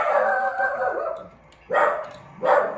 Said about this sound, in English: Sorry, that's my dog going crazy over there.